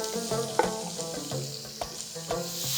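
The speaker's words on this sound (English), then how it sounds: "Let's add the chopped tomatoes." Chopped tomatoes sizzle as they hit browned mutton for a Peshawari namkeen gosht, with a spoon stirring and scraping the pot in irregular knocks over a steady frying hiss.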